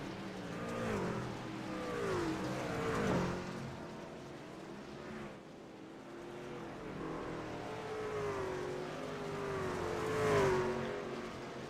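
Racing trucks roar around the oval at Knoxville in a truck series race, engines rising and falling in pitch as they pass and rev through the turns, a continuous layered drone of several vehicles.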